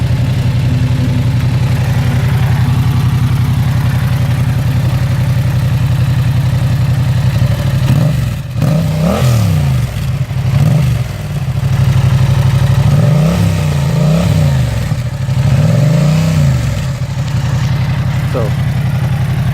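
A 2016 Yamaha FZ-07 motorcycle fitted with an Akrapovic full racing exhaust idles steadily, then revs in a series of sharp throttle blips that rise and fall, close and loud, with no talking.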